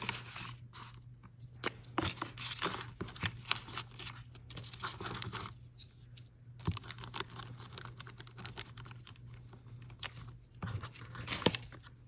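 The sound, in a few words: crumpling paper for craft cluster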